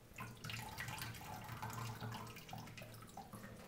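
Hot cooking water from boiled tortellini poured out of a pot into a sink, a steady close splashing gush lasting several seconds with no speech.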